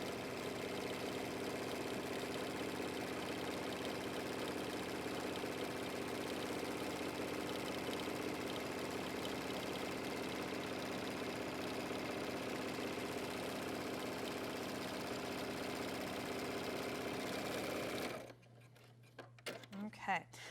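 A sewing machine stitching a hoodie's hood seam, a continuous mechanical whir running steadily for most of the stretch, then stopping abruptly before a few soft handling sounds.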